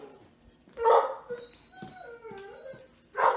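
A dog fusses at home with a loud bark, whimpering whines and yips, then another sharp bark, close by and mostly on its own.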